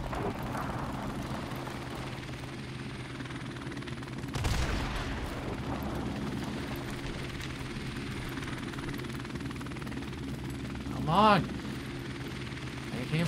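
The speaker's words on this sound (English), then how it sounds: "Friendly helicopter on the way!" In the shooter Call of Duty: Modern Warfare Remastered, a helicopter drones with a steady low rotor hum throughout, joined by a brief crack of gunfire and a short rising whine near the end.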